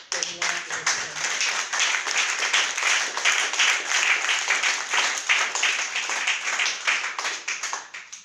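A church congregation at an anniversary service applauds and cheers loudly and steadily, a dense unbroken wash of clapping with a few voices rising briefly near the start.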